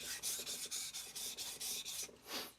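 Single-bevel Tsubazo deba knife drawn across a whetstone during polishing with Chosera 400 and FSK 1000 stones, making a quiet, close rasp in about eight rhythmic back-and-forth strokes.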